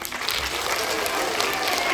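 Audience applause for a child's magic trick during a magic show, a steady dense wash of clapping from a crowd, close and even for its full length with no talk over it.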